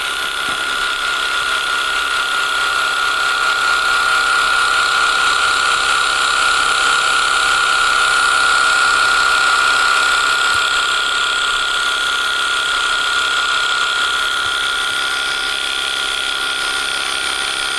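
Electric hair clippers buzz steadily and loudly throughout while cutting a skin fade baseline, a continuous near motor whine with no talking.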